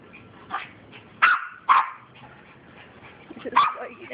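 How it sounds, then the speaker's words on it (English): A dog barks in a few sharp, loud bursts close by, with short quiet gaps and faint whimpering between them. "What you barking at?"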